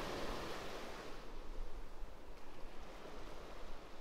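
Ocean surf rolls in steadily at Pawleys Island beach around sunrise, a soft continuous wash of breaking waves heard from a distance, with no voices present.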